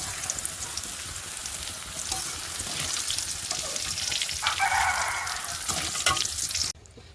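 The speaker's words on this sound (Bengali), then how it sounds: "এখন মশলাটা ভাজতে আছি" Whole spices for rice, including cardamom, cloves, black cardamom, mace and peppercorns, fry in a pan with a continuous crackling sizzle and stirring scrapes that cut off abruptly near the end.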